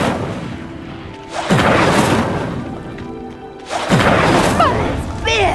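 In Hogwarts Legacy, an Incendio fire spell ignites a pyre with two loud, booming bursts of flame a few seconds apart. A voice speaks briefly at the end.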